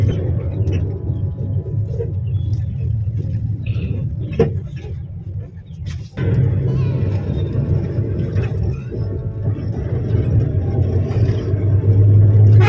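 Steady low engine rumble and road noise from inside a moving bus, continuous throughout with a brief dip and a jolt midway, then the drone resumes and swells slightly.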